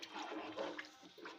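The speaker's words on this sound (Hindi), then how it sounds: "अब हम इसमें डालेंगे पानी।" Water pouring steadily into a pot of beef nalli nihari with bones and marrow, a continuous splashing rush that stays fairly loud for the whole moment with no voices.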